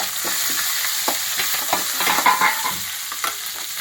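Garlic and dried red chillies fry in a hot oil tempering for vegetable chutney, a continuous close sizzle broken by repeated spoon stirs and scrapes against the pan.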